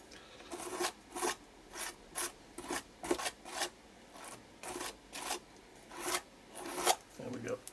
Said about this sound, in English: I'll just scrape off any excess that's gone through the edge of the stencil there.